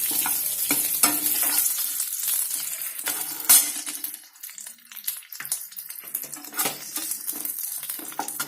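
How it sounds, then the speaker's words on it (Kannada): Chillies and spices fry in a pan for radish chutney, a loud close sizzle broken by repeated scrapes and stirring knocks, no voices. "ಅದಕ್ಕೆ ನಾನು ಎಲ್ಲಾನು ಸ್ವಲ್ಪ ಫ್ರೈ ಮಾಡಿ ಹಾಕ್ಕೊಳ್ತೀನಿ"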